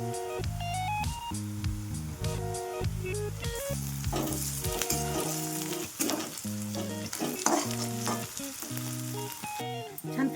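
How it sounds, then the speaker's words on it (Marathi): Crushed garlic, green chili and onion fry and crackle in a pan for tomato chutney, with occasional stirring scrapes, a steady close sizzle under soft background music. "हिरवी मिरची, कांदा मस्तपैकी फ्राय झालेला आहे."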